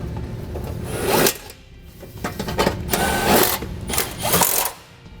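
Bolts snugged down on the heat shield of a 2015 Subaru Legacy during trailer hitch fitting, giving repeated mechanical ratcheting bursts with brief pauses between them, close and fairly loud.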